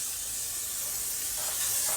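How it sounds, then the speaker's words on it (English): L'Oreal Infallible makeup setting spray mists out in a steady, close airy hiss lasting about two seconds, growing slightly louder near the end with no talking. "The setting spray really locks your makeup in."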